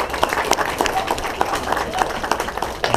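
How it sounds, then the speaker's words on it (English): Wedding guests break into steady applause during the reception speeches, a dense patter of many hands clapping close by for the full stretch, with faint crowd murmur mixed underneath. "If you guys could give them a round of applause."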